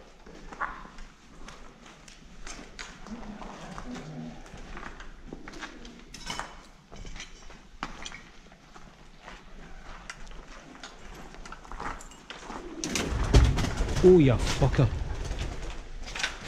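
Pigeons coo and flutter inside an abandoned building in Scotland, soft repeated calls near and far among echoing footsteps, with a man swearing briefly and a louder rustling burst near the end.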